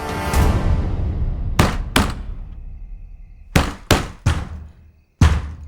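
Heavy pounding on a locked door in a tense dramatic scene, arriving as a loud burst of thuds followed by separate clusters of sharp, hard blows separated by short pauses, with no talk.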